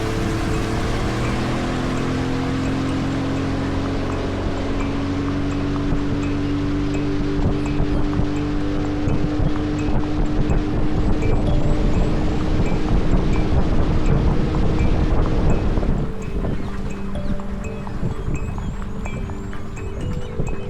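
A motorboat engine drones steadily across water near reeds in Belize, a low continuous hum with wind buffeting the microphone, the pitch shifting slightly as it passes.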